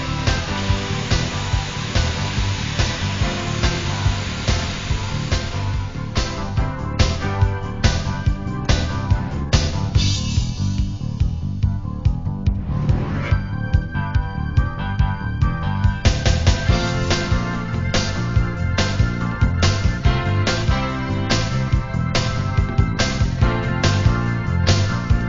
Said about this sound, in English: Cut away this area using a rotary cutter.